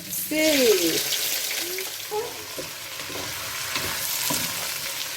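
Onions frying in olive oil for a pork filet mignon dish give a steady, close sizzle with occasional stirring taps, and a brief voice sounds near the start.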